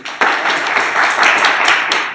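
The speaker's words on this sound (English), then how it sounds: "Big round of applause." Audience applause at a tech user group meetup, a steady burst of clapping from a room of people that starts abruptly and holds at a fairly loud level.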